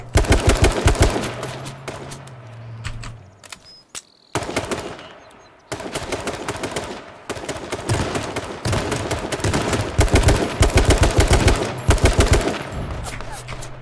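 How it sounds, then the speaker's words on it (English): Gunfire in the battle royale game King of the Kill, rapid bursts of automatic shots that come and go over about fourteen seconds, loud and near, with game ambience and a brief lull in between. "I'm getting shot at."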